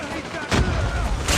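Rapid gunfire in the mobile shooter game Call of Duty Mobile, on a 10 v 10 Shipment match: dense, loud bursts of shots rolling continuously, growing heavier after the first half second.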